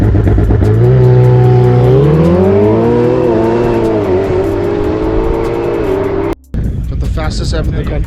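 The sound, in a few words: McLaren 720S and Pista supercars at drag race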